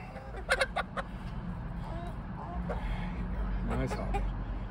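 Backyard chickens, including Easter eggers, cluck nearby in several short bursts over a low background rumble, with a person talking faintly in between.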